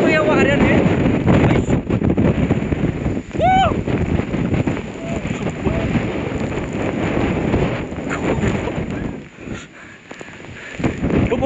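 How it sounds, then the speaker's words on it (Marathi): Strong wind buffets the microphone on an exposed hill fort during the monsoon, a loud continuous rumbling roar that persists throughout, with a voice partly audible beneath the gusts. "या किल्ल्यावरती आल्यानंतर वारं प्रचंड सुटलेलं आहे, त्याच्यामुळे कदाचित तुम्हाला माझा आवाज नीट येणार नाही."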